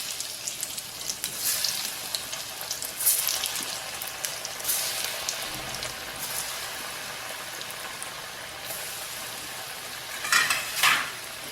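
Snake gourd rings for bajji frying in hot oil, making a quiet, steady crackle with occasional brief bursts of louder sizzling and light utensil sounds, with no talk.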